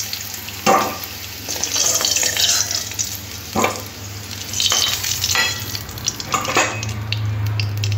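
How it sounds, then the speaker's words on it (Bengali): Golden fried potatoes being stirred in hot oil before fish curry, a loud close sizzle with repeated metal spatula scrapes against the pan and no voices. "মানে আলুটা ভাজা হয়ে গেছে।"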